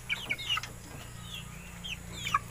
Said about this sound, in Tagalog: Napasa 3 months na itong alaga nating manok mga brothers